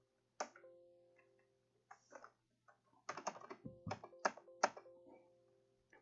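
Keys pressed on a computer keyboard for a Ctrl+Z shortcut: a handful of crisp, close clicks in a short burst, with a few scattered taps before it in an otherwise quiet room.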